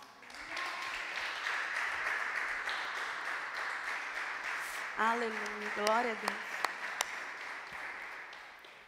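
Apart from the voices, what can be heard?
congregation applause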